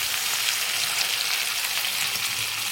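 Cumin, ginger and chili paste sizzle steadily in a hot frying pan, a dense, even hiss with fine crackling that holds at the same level throughout, close by, with no voices.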